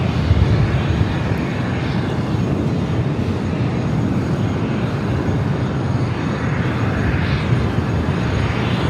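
An Air France Airbus A350-900 taxis at LAX, its engines a steady, loud broadband roar and whine that holds evenly throughout.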